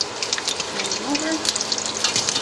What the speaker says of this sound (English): Let them cook on that side. This is really hot oil, so they should cook down.